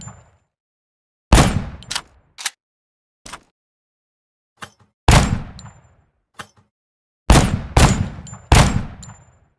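A string of sharp shots from an M500 toy pistol fires in irregular bursts, some single pops and some quick doubles, loud and close with silence in between.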